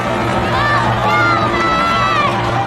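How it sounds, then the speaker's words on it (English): A large stadium crowd roars and cheers continuously while standing to applaud, a dense wash of many voices with shouts rising over it. "Inside the stadium, everyone stands up to applaud Calvin, and he looks quite happy."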